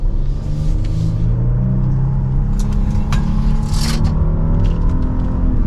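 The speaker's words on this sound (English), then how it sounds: "we are going to do one last acceleration for today's review" Loud, close engine rumble from a 2024 Genesis GV80 AWD Prestige Signature under acceleration, with a steady low drone of rising revs and faint road scraping throughout, and no talking.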